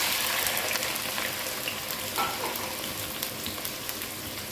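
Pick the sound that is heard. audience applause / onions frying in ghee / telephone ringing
onions frying in ghee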